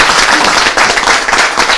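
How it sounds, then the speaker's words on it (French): Loud, dense audience applause at a live performance by a traditional-modern music group, a continuous close wash of many hands with no talking. "on applaudit très fort"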